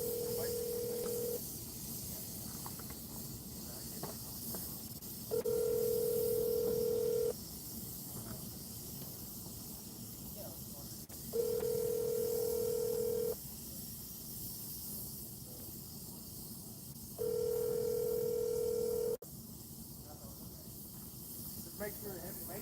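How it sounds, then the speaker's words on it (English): On an automated city phone menu, a steady single-pitch tone sounds four times in long even blocks, each about two seconds, over faint hiss and line noise between them. "If you know your party's extension, dial 2. For parking, press 7."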